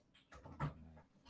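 A nearby dog pants softly in a few quick, breathy puffs, faint and close, with a slight whimpering edge.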